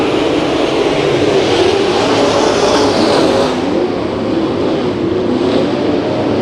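Dirt-track race cars circle Santa Maria Raceway during heat races, close and very loud, their engines a continuous roaring drone that swells and then eases a little as the pack passes.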